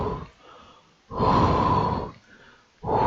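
Heavy, loud breathing from the killer in the 1988 horror film The Undertaker, two long huffing breaths close to the mic separated by quieter gaps, with a third breath beginning at the end.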